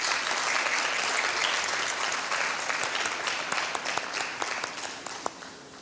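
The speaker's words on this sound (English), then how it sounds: "a round of applause" An audience at an inter-high school debate day in the Turks and Caicos Islands applauds the debate teams, a full sustained clapping that gradually thins, with scattered sharper individual claps toward the end.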